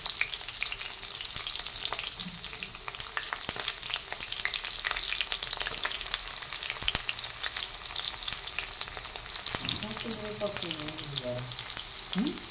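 Garlic and one or two green chillies fry in a few spoonfuls of hot oil for tempering, a steady crackling sizzle with scattered pops and occasional scraping stirs, moderately close with no talk.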